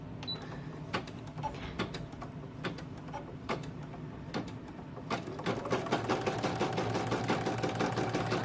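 An embroidery machine stitches a satin stitch around the outline of a bow, a steady rapid mechanical needle rhythm with regular sharp clicks, close and moderately loud, building slightly louder toward the end.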